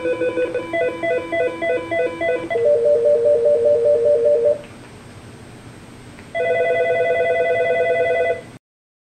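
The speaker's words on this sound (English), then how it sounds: "I'll press the down arrow to cycle through the ringtone choices." Electronic ringtones on an Aastra 6730i/6731i desk phone play one after another: a rapid trilling pattern, then a steady warbling tone, a pause, then another sustained ringing pattern.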